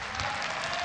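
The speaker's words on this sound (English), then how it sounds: "Crowd appreciating Tiffany Tio, the Singaporean" Crowd applauding fighter Tiffany Teo of Singapore at a ONE Championship bout, a steady dense wash of clapping and crowd noise held at even loudness throughout.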